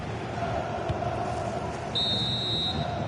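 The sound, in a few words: referee's final whistle at end of football match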